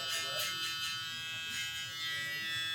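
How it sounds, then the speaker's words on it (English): An electric hair trimmer cuts hair during a full fade haircut, giving a faint, steady high buzz with slight pulsing as it moves through the hair. "I'm just trying to make that little adjustment with the other trimmer"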